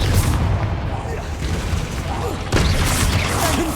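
The Confringo fire spell in Hogwarts Legacy bursts in a run of booming blasts and crackling impacts during combat, with a voice heard among the explosions.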